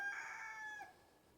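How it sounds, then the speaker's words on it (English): A homestead rooster crows once, a single clear, fairly distant call that fades out near the end, with no one talking over it. "Rooster's happy."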